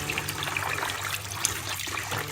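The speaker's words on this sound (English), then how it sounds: "First of all, wash the sticky rice until it's clean." Sticky rice being washed in water, a continuous sloshing and trickling of liquid close by at moderate level, steady without pauses and without any talking.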